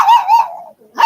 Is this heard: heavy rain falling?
no